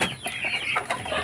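Native chickens on a rural farm cluck loudly and close by in a busy run of overlapping calls.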